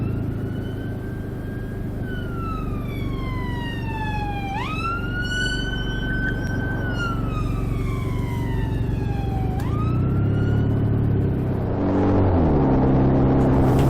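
Emergency vehicle sirens on a road heard from a motorcycle, a rising and falling wail sweeping through two cycles over steady engine and wind noise, fairly loud and then fading.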